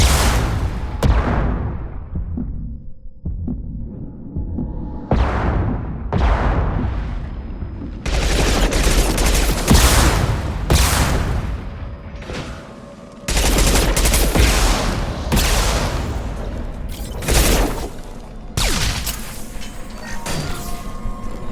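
Loud bursts of heavy gunfire and booms in the sci-fi shooter Mass Effect 2 come in repeated intense volleys with brief lulls between them.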